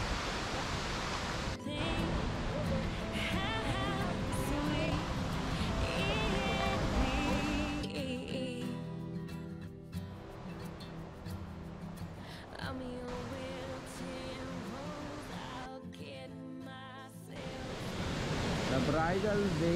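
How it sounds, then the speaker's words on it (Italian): Bridal Veil Falls in the Columbia Gorge roars as a broad, steady rush of falling water close by, with people talking over it. "Questa è una bella cascata."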